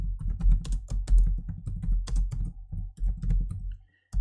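Rapid typing on a computer keyboard, dense clusters of close, crisp key clicks in uneven bursts with short pauses, ending in a brief silence before one more press.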